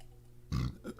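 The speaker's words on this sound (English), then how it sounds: "I forgot what I was saying because I had to burp." A single short, fairly loud burp erupts from a person partway through an otherwise quiet moment, followed by a faint trailing vocal sound.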